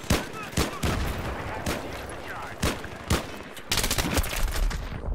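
Gunfire in Battlefield 3 Rush mode, loud close bursts and single shots cracking over a dense, continuous battle din, with heavy rapid fire building near the end.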